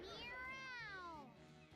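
A video game character's voice imitating a cat's meow, one drawn-out, gliding mew that rises then falls, clear and close, performed as a playful vocal impression.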